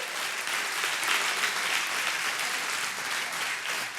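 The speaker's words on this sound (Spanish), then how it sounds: "denle un aplauso a Dios por eso" A church congregation applauds during a sermon, a dense, steady wash of many hands clapping together, sustained and fairly even for several seconds with no voices standing out.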